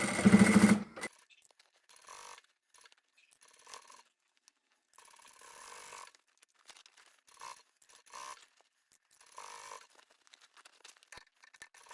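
A sewing machine stitches the side seam of a fabric bag, including back stitching, in short, quiet whirring bursts separated by pauses, after a brief louder noise at the start.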